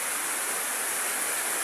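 Floodwater rushing around a flooded house, a steady, dense wash of flowing water that fills the whole short stretch without letup.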